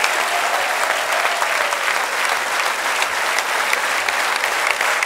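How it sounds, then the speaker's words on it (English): Sustained applause from an audience at a panel discussion event in Pune, dense and steady clapping that holds at an even level throughout with no talk over it. "Please have a huge round of applause once again."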